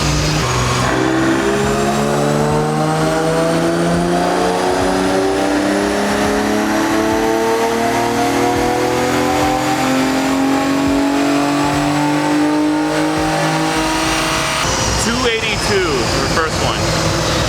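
A Nissan 370Z engine roars through a full dyno pull, its pitch climbing steadily and loudly through the revs before cutting off abruptly near the end, with people talking faintly underneath.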